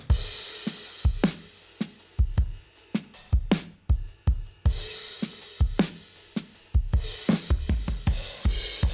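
A drum kit treated with a subtle, very small-room reverb plays a busy groove of kicks, snares and cymbals, each hit carrying a short room tail, with no talking.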